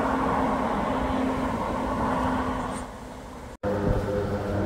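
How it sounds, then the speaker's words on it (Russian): City bus number 221 in Luxembourg rumbles close by with a steady engine drone and road noise, dipping briefly before the low engine hum returns. "А вот и наш 221 автобус."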